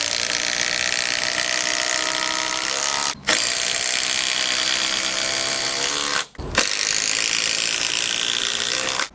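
Impact drivers sinking 5-inch Simpson Strong-Drive SDWS timber screws, a loud continuous rapid hammering rattle held steady for several seconds with two brief pauses between runs, close up and without speech.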